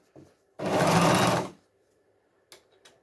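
A Jomita portable walking foot zig zag industrial sewing machine runs in one short, loud, steady burst of stitching lasting about a second, followed by a couple of faint clicks.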